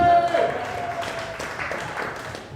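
Applause from a comedy club audience for a performer named Heather, scattered clapping under a sustained tone and some voices, fairly close and modest in volume, fading slightly over a couple of seconds.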